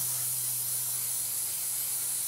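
Paint hisses from a spray can or airbrush onto a 1/48 Revell Junkers Ju 52/3m model kit, one loud, steady burst of spray close by with no voices.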